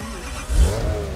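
Koenigsegg supercar engine in BGMI revving hard in a short, loud burst that swells to a deep roar and then holds, with no talking.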